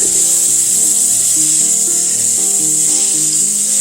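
Steady, loud frying hiss of onions in heated olive oil, continuous and close, with a faint low tonal hum running underneath.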